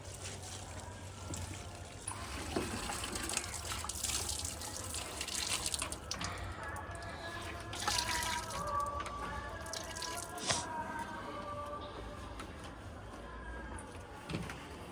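Water from a tap runs steadily while a pair of clothes is washed by hand at home, with soft splashes and drips close by and no talking.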